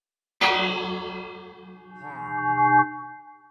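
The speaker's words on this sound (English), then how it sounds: "When defending the village, you may ring the bell. That has a new sound" Village bell struck in Minecraft Java Edition 1.14, a single loud metallic clang with a long ringing, echoing decay, joined near the end by a brief wavering resonant tone.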